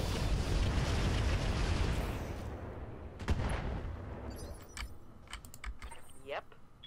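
Mech weapons firing in the Roguetech mod of a BattleTech game: a dense, loud roaring barrage for about two seconds, then scattered sharp impacts and booms fading to lighter crackles.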